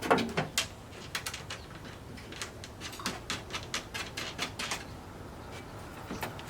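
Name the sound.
nuts being threaded onto bolts by hand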